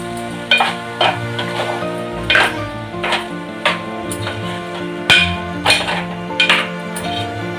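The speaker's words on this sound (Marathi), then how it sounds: "आता आपण त्यामध्ये शेंग बटाटा घालूया." Drumsticks and potatoes are stirred into tomato gravy in a pan, the spoon scraping in regular strokes about once a second over a steady oily sizzle.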